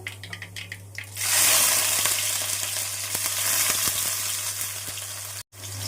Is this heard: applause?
no